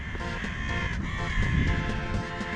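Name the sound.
crows cawing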